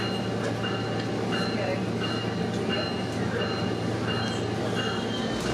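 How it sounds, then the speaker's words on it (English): A Sonoma Marin Area Rail Transit train heading from Petaluma toward Novato rumbles and hums steadily from inside the car, with faint periodic chimes or tones recurring over the constant ride noise. "Let's take a train ride from Petaluma to Novato and back."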